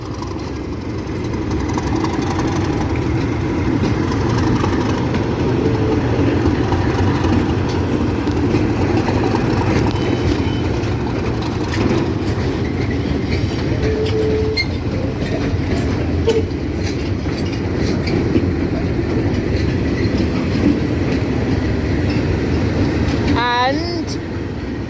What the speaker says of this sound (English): I couldn't miss the opportunity to film some Class 37s.